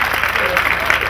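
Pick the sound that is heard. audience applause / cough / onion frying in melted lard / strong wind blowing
audience applause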